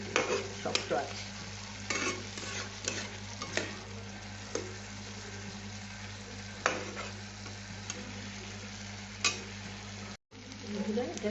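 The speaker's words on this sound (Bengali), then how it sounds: "নুন দিয়ে একটু নেড়ে দিয়ে আবার ঢাকা দিয়ে দেবো" Sliced pointed gourd fries with salt in a pan while a spatula stirs it. A quiet, steady sizzle runs underneath sharp, irregular scrapes and clicks of the utensil against the pan.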